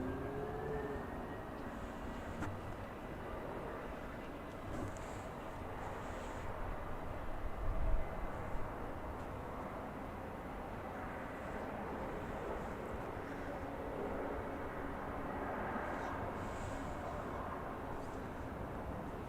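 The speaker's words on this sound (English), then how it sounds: "we have a Delta operated by SkyWest Embraer 175 coming in" A Delta SkyWest Embraer 175 lands at LAX, a faint, distant, steady jet rumble that swells slightly midway against the constant background roar of the airport.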